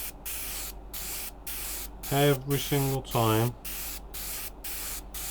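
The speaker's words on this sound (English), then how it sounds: "So with the airbrush now, we can spray this wing" An airbrush sprays paint across a model aircraft wing in a steady hiss, cut into short regular bursts with gaps between passes, while someone talks over the middle of it.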